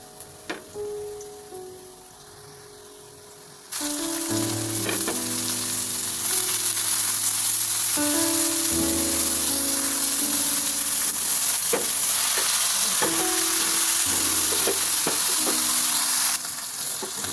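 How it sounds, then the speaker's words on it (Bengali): Dried fish (shutki) dropped into a pan of hot oil with lightly browned onions: a quiet start, then a sudden loud, sustained close sizzle and crackle with occasional stirring clicks. "এরকম হালকা লাল থাকতে থাকতেই শুকিটা দিয়ে দিব।"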